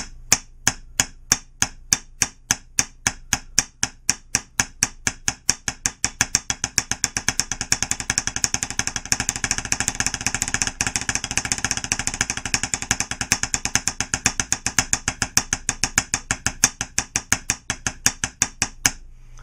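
Drumsticks play fast, even paradiddles on the second side of an Ahead double-sided drum practice pad, a long run of crisp, closely spaced taps that start a little slower and then settle into a tight, rapid pattern without any talking.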